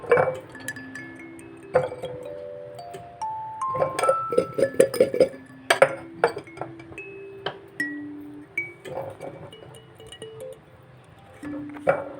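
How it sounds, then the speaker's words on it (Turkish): Washed plums dropped into a glass jar for pickling, giving repeated bright clinks and knocks against the glass at an uneven pace, close and fairly loud, with no talking. "Yıkadım, kavanoza dolduruyorum."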